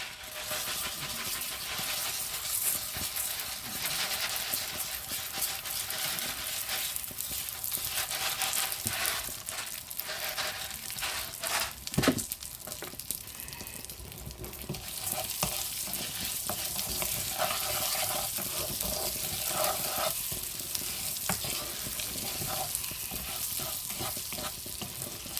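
Rice being stirred in hot oil in a pan for a vegetable risotto-style dish, a steady close sizzle and frying hiss with scraping stir strokes throughout, no talking.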